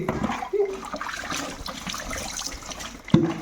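Tap water pours steadily into a tub while a Doberman puppy sits in it for a bath, a close, continuous splashing rush with two brief squeaky vocal sounds near the start and end.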